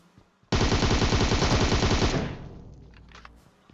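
Rapid automatic fire from a UMP submachine gun in the mobile game PUBG Mobile, a loud burst of about one and a half seconds that cuts off and leaves a fading echo, followed by faint distant shots.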